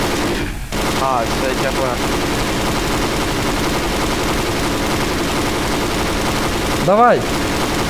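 Gunfire in Garry's Mod, a steady stream of loud video-game shots that runs through the whole stretch under a voice talking in Russian over game chat.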